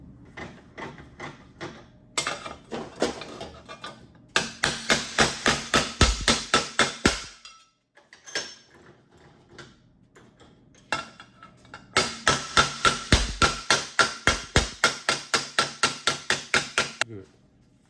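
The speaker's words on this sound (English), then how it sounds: "we're gonna bend the flange a little bit more here on the stretcher" A steel wheel-well flange for a 1966 Triumph GT6 is hammered and worked on a shrinker-stretcher: fast rhythmic metallic strikes in long runs, separated by pauses and quieter taps, close and clear.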